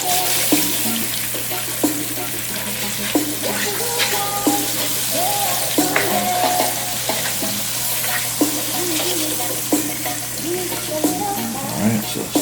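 Sizzling in a frying pan as turmeric powder goes in while cooking a Chinese vegetable and chicken stir-fry, with steady crackle and a few clinks and stirring scrapes, close and continuous.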